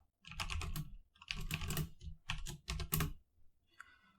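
Bursts of fast key clatter from typing code on a computer keyboard, close and clear, in several quick runs separated by short pauses, ending in a faint trailing patter; no voice.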